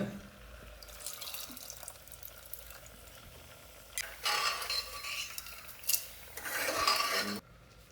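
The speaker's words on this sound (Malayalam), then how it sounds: "ഇനി പുളി പിഴിഞ്ഞ് വാരാണ്" Tamarind is squeezed by hand in water for onion sambar: quiet wet squelching, then two louder bursts of splashing and dripping a few seconds apart, close by, with no talking.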